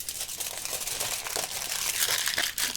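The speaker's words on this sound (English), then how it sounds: "I've ripped up 5 pieces of foil, so I'm going to make a sausage out of one. It's a funny noise, isn't it?" Aluminium foil crumpled and squeezed by hand into a sausage shape for a sculpture, giving a continuous close, bright crinkling and crackling with brief tearing-like bursts and no talking.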